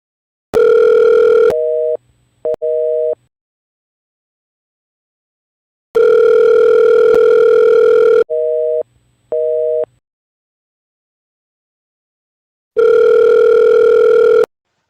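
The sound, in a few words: telephone tone as a phone call is cut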